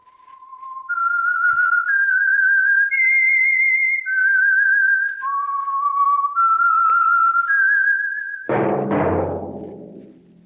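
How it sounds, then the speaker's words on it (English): A lone whistler carries the theme of The Whistler, an old-time radio mystery sponsored by Signal Oil, in long, clear sustained notes that step through the melody. A sudden crash of orchestral sound then cuts in at the end. "That whistle is your signal for the Signal Oil Program, The Whistler"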